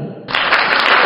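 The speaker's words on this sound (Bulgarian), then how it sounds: "Аплодисменти, моля, аплодисменти!" Audience applause at a show bursts in suddenly after a short pause, dense loud clapping that continues to the end of the brief moment.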